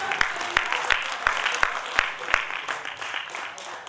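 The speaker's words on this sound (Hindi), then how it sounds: "ये तालियां आती हैं प्यारे।" An audience at a Hindi poetry recital and book-launch gathering claps in scattered, moderately faint bursts with distinct sharp hand-claps standing out, mixed with murmuring voices.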